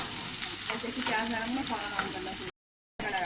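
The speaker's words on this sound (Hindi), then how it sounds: "तेज़ चूल्हे के ऊपर ही हम इसको सौते कर रहे हैं" Onion sautéing over a high flame for chana dal, a loud, constant sizzle with stirring scrapes, close up, briefly cut to silence near the end before the sizzle resumes.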